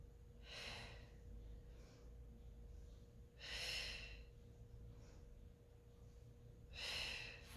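Three slow, breathy exhalations during a Pilates exercise, each a soft, close whoosh lasting about a second, spaced roughly three seconds apart over a low steady hum.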